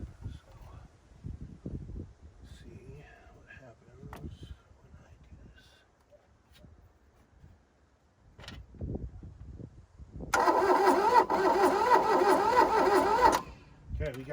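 A 1982 Volkswagen Rabbit diesel pickup engine cranks over without firing, a loud, steady whirring churn lasting about three seconds after stretches of quieter shuffling and talk.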